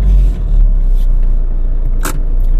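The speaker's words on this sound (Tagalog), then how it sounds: "medyo traffic na ngayon sa southbound ng Roas Boulevard" Car traffic rumbles along southbound Roxas Boulevard in Manila, a loud, continuous low roar of engines close by, with a short hissing pass or scrape midway.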